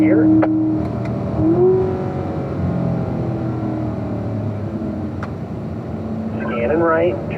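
Car accelerating hard on a track, engine note climbing through the gears up to fifth, a loud steady drone with shifting tones, brief higher squeals and an instructor's voice talking over it.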